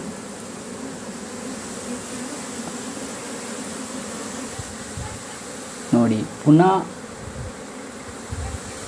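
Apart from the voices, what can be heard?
honey bees buzzing around flowering plant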